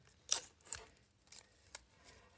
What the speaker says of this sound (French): on peut retirer ici les petites bandelettes du scotch 3M